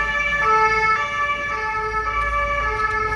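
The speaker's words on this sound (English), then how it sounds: "Ambulance." An ambulance siren on a busy Paris street near Notre-Dame wails steadily with strong tonal harmonics over low traffic rumble, fairly close and sustained for the whole stretch.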